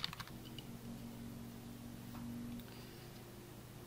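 Faint clicks of typing on a computer keyboard come from close by in a quiet room, a few quick keystrokes at the start and then a soft steady background hum.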